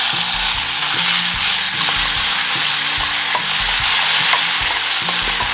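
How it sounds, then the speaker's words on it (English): Chopped tomatoes hit chickpeas frying crisp and brown in a pan for Amritsari chole, setting off a loud, steady sizzle with repeated scraping knocks of stirring close by and no talk. "So now at this stage, I'm going to be adding chopped tomatoes."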